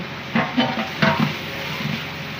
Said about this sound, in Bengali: এখন কড়া করে বাজমো পেঁয়াজটা।